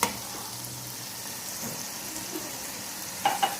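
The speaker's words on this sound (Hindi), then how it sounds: "ये देखिए, अब हम इसे भूनेंगे" Garlic, ginger and green chili paste fries softly in a pan for Lahori beef karahi, a low steady sizzle with a couple of brief utensil clinks near the end.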